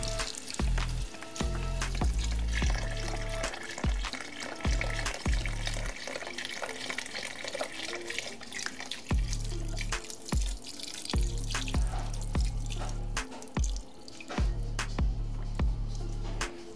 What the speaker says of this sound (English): let's go ahead and add in our beef broth. Now this is 4 cups of beef broth.